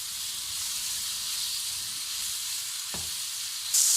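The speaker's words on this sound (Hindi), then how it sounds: "इसको हाई फ्लेम पे हम थोड़ा सा भून लेंगे।" Chicken frying on a high flame for chicken tikka pizza, a steady loud hissing sizzle with a brief scrape near the end and a sudden burst of brighter spitting.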